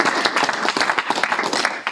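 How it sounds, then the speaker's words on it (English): Applause from attendees at a school board meeting, a brief burst of many hands clapping together, fairly close and continuous. "Another round of applause for everybody"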